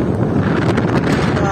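Strong wind blows across an open hillside among the windmills of Ilocos Norte, buffeting the microphone with a loud, constant rumbling roar.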